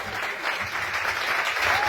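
A brief burst of steady crowd clapping from a stand-up comedy audience in Kumanovo, even and continuous with no pauses.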